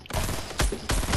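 Fortnite gunfire: two quick, loud bursts of close automatic shots, one right after the other, with no talk.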